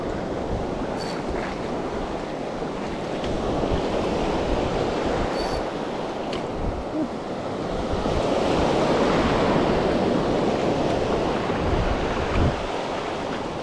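Sea waves wash continuously on an ocean shore during a fishing outing. The loud, steady roar of surf swells and fades in broad rushes, with wind buffeting the microphone throughout.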